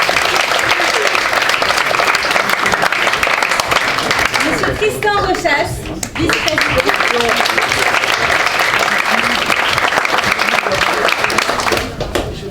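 An audience at the final of the 2016 French debate championship applauds steadily throughout, a loud, dense wash of clapping that dips briefly midway while a man announces a name over it.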